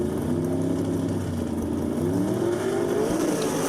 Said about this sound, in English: Oh my goodness, both cars leaving before the tree is activated